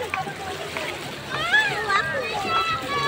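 Children bathe in a shallow river at Baco, Oriental Mindoro, with light water splashing and kids' voices mixed together, while someone talks nearby.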